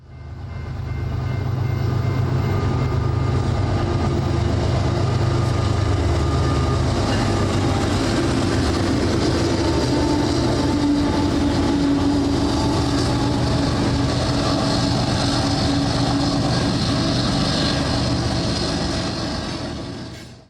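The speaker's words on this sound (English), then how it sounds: "a manifest with a nice lash-up came by just after I arrived" A manifest freight train led by a multi-locomotive lash-up rumbles past close by, its heavy low engine drone giving way to a long, steady roll of rattling cars and wheel noise that holds loud throughout.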